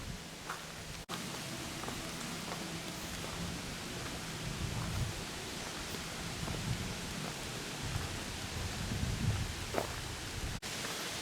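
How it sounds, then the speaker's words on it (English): Wind gusts through trees on a mountain trail, shaking water off the limbs so it sounds like rain. A steady, dense patter of drops falls over a broad windy rush, with no one speaking. "It's blowing all the water off the tree limbs up ahead."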